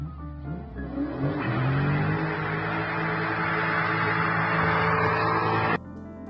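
A manual-transmission car engine revs up hard and holds at high revs, rising through a gear with a throaty, steady roar, then cuts off sharply.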